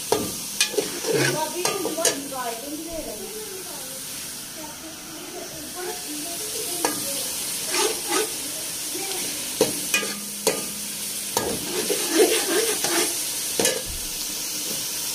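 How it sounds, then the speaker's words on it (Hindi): Chicken pieces fry and sizzle in a hot pan while spaghetti is being cooked, with steady hissing broken by repeated stirring scrapes and clatters, close and fairly loud. "चिकन डाल दिया। अब चिकन फ्राई हो जाएगा तब तक।"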